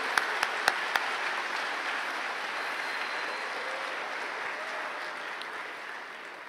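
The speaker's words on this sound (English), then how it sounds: "round of applause for families and alums and parents" Steady audience applause fills a graduation commencement ceremony at a high school, a broad wash of many hands clapping at moderate distance, with a few sharper claps near the start and the ovation holding evenly throughout.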